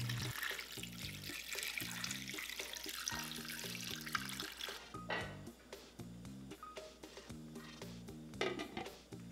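Water runs and splashes steadily into a pot holding onion, ginger, cinnamon and bay leaves for several seconds while music plays underneath; no one speaks.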